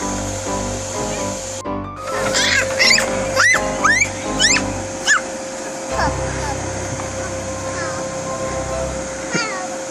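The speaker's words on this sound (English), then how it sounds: "I used my shop vac as an air source, and sure enough, it made bubbles" A shop vac feeding air to a homemade bubble machine drones steadily throughout, while a young child's high squeals and chatter rise over it near the middle.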